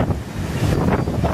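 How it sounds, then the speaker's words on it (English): A strong wind on a windy day in Chicago roars across the microphone outdoors, a loud, dense, continuous buffeting rumble with rising gusts and no talk. "It's windy out here"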